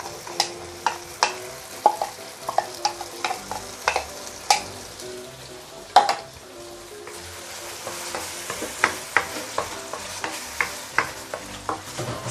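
Garlic, onion and ginger paste sizzles steadily in oil, broken by regular sharp scrapes and knocks of a utensil stirring the pan, with no talking.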